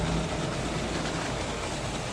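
A LEGO infrared remote-control train in a winter village layout runs along plastic track with a steady, quiet rolling hum and rattle, no talking.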